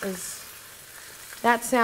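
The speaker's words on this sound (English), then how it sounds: "That sizzle sound means it's on" Skin-side-down chicken sizzles in a hot pan with a soft, steady hiss, while a voice speaks briefly at the start and end.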